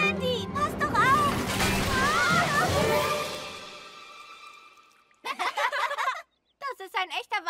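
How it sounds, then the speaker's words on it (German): A water tank tips over in a Thomas & Friends cartoon, releasing a loud rushing splash and slosh that fades over several seconds, with excited voices talking over it and afterward. "Der Wasserspeicher kippt um."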